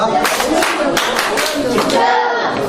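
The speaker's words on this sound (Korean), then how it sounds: "집중박수 시작." A group of people claps together on cue during a children's devotional class, a burst of close, dense handclaps running steadily throughout.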